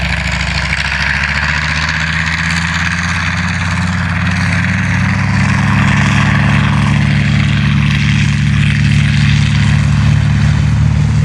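A Grumman Avenger's 14-cylinder Wright radial engine drones loud and steady, its deep propeller rumble thickening and growing heavier toward the end, with no voices over it.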